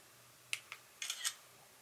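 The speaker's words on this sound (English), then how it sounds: "And that activates a shutter." A smartphone camera shutter is triggered by the button on a TaoTronics TT-SH10 selfie stick, giving a few faint, quick clicks in a quiet room: one, another, then a short cluster.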